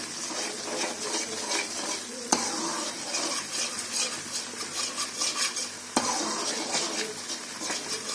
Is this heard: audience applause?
no